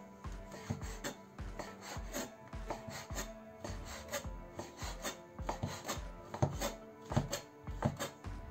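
A knife cuts through homemade sausage into rounds on a board, producing a steady rhythm of close, repeated chopping strokes with a rasping edge and no speech.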